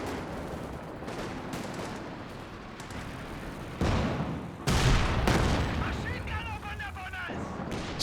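Gunfire and artillery crack out in a Company of Heroes 2 battle with anti-tank guns facing Panzer IVs, a rolling spread of distant booms and sharp volleys under steady battlefield rumble, while a commentator talks over it.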